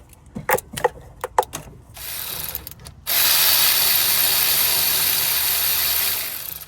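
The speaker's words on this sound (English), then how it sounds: "So I'm gonna go ahead and unbolt them." Clicking ratchet strokes loosen bolts on the alternator bracket of a Honda Pilot, a few quick close clicks followed by a steady, louder whirring run of fast spinning.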